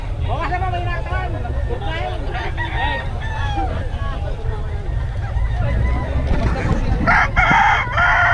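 Chickens and hens cluck and crow repeatedly in a busy market yard, with murmuring voices and a low engine-like rumble running underneath.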